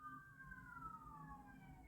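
Emergency vehicle sirens wail outside, faint and distant, their two tones sliding slowly downward over low traffic rumble, with no talking.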